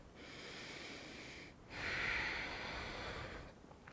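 A yoga instructor's breathing during a slow flow class: a long, steady inhale, a brief pause, then a louder, fuller breath that tapers off. Close and airy, with no talking.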